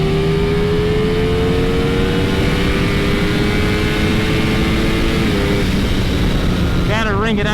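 Motorcycle accelerating hard on a highway, a loud sustained engine drone with rising pitch and heavy wind roar throughout, ending with a brief shift in tone near the end.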